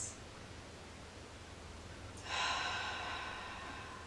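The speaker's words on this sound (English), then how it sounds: "And take 3 cleansing breaths." One deep cleansing breath: a long, quiet stretch of airy rustle, then a full, breathy exhale that rises abruptly and fades slowly, close to the microphone.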